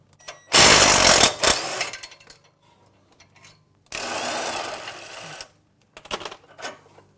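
A power tool with a 21 mm socket spins out the rear panhard bar bolt on a Jeep Wrangler JL Unlimited, in two long loud whirring bursts followed by short blips, close and without talk.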